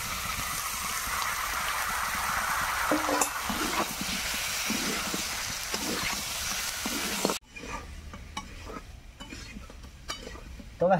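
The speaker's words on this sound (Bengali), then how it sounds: "মাংসটা সুন্দরভাবে একদম পুরো ভাজা ভাজা করে নিচ্ছি" Chicken meat frying in a pan, a dense continuous sizzle with stirring scrapes throughout, then a sudden drop to a softer hiss and crackle with occasional clinks.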